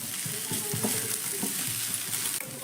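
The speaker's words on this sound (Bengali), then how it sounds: "লঙ্কাটা দেওয়ার পর 2-1 মতো একটু নাড়াচাড়া করে নেব।" Chopped green chillies fry in a pan as they are stirred, a steady sizzle broken by repeated soft scraping strokes of the spoon.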